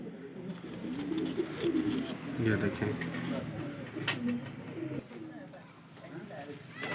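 Pigeons coo in low, repeated throaty calls close by, mingled with wing flutters and rustling, while someone talks over them.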